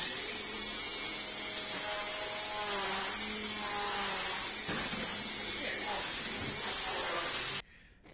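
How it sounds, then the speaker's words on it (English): A weed whacker runs at 9 in the morning, a steady loud whining drone with wavering pitch that holds for about seven and a half seconds before cutting off abruptly, with voices faintly mixed in. "So he decided to come in with a weed whacker and start cleaning up for them at like 9 in the morning"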